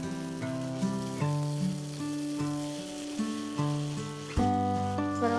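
Garlic-ginger paste fries in a pan with a soft, continuous sizzle, partly masked by steady background music with sustained tones.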